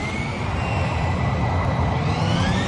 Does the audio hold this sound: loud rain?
no